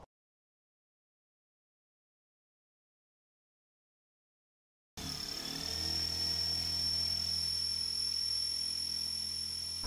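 A power drill runs continuously, drilling out rivets on a car door panel during an electric window repair. It starts abruptly after silence and holds a steady high whine for about five seconds, close and fairly quiet, with no voices.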